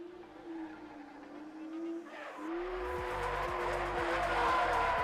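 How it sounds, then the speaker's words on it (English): Yellow BMW drift cars burn rubber at a Street League drift championship in Siauliai, Lithuania: a loud, sustained tire squeal swells over roaring engines, growing denser and more intense as a second car joins in. "The guys in yellow BMWs don't hesitate to burn some rubber before their start."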